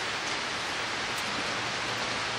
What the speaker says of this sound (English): It's raining good out there.